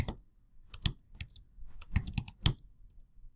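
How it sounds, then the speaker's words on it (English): Keys tapped on a computer keyboard while entering a value into an Excel cell, a few quick bursts of close, crisp clicks with short pauses between them. "I can type in another one right here"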